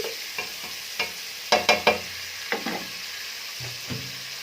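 Small whole onions sauté in a hot pan with a steady sizzle, broken by a string of sharp scraping stirs that cluster near the middle of the stretch, with no voices.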